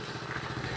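A motorbike engine idles steadily at close range, a low, even, rattling putter with no talk over it, during a two-motorbike tour in Vietnam.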